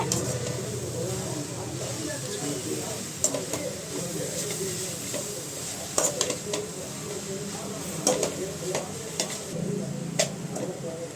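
Momo stuffing is stirred and tossed in a pan on the heat: steady scraping and rustling over a soft sizzle, with occasional sharp ticks of the utensil against the pan, close by and continuous.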